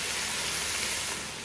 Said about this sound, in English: we've got the beef sizzling